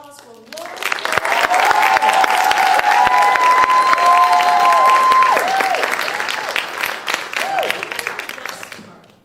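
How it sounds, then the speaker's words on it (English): An audience at a summer poetry slam breaks into loud, sustained clapping, with cheers and shouts rising over it before it tapers off. "y'all give a warm round of applause for Lauren."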